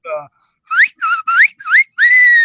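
A person whistles a short melodic phrase from a theme song intro, several quick rising notes ending in a held tone, after a brief spoken sound at the start.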